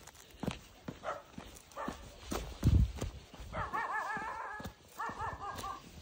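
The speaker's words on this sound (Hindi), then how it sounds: "वो भौंकने लग गया।" A dog barks repeatedly at close range in a home, with sharp barks mixed with higher whining, yelping cries.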